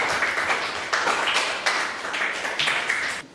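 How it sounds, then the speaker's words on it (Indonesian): A classroom group claps for the last team of presenters, dense steady applause with hand claps filling the room for about three seconds, fairly close and even in level. "tepuk tangan untuk kelompok terakhir"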